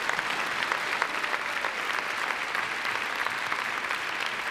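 A university investiture audience gives the staff a round of applause, a full, steady roar of many clapping hands that holds at an even level throughout.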